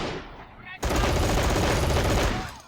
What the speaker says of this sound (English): Looks like we do have a machine gunner.